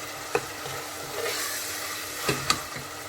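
Ginger and garlic paste with fresh ginger frying in a pan, a continuous close sizzle broken by a few sharp scrapes and clacks of a utensil stirring, with no voices.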